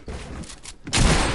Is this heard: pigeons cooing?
no